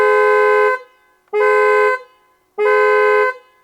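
A Lucid Air's two-tone electric car horn sounds three times in even blasts of under a second each, loud and close, with short silences between, no voices.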